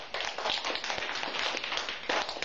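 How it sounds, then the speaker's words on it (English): A church congregation claps together as an offering to God, producing a dense, steady patter of many hands that carries for a couple of seconds at moderate distance. "let's give God the best clap offering"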